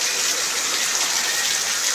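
Heavy rain pouring down outdoors at a farm field, a dense, steady hiss of falling water with no pauses, loud and close throughout.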